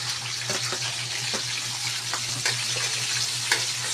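Garlic and then onion sautéing in a pan for pansit sinabaw give a steady, continuous sizzle and crackle, fairly close, with a faint low hum underneath.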